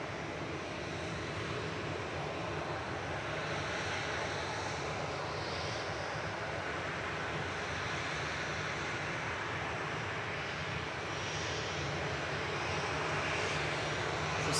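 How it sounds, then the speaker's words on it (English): Ryanair Boeing 737-800 departing Manchester Airport, a steady, fairly distant jet engine rumble and roar that holds constant for the whole stretch with no voices. "Ryanair lining up to depart next to Faro, flight 4088,"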